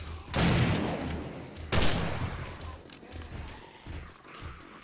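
Pistol gunfire in the survival video game 7 Days to Die: two sharp, loud shots about a second and a half apart, each ringing out and decaying, followed by quieter scuffling game sounds.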